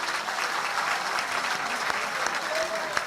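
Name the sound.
audience applause at a poetry gathering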